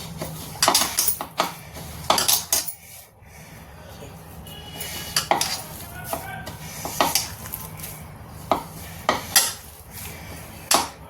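A spoon scrapes and stirs a potato tikki mixture with salt and spices in a bowl, giving repeated rubbing and clinking strokes in an irregular rhythm with quiet gaps between.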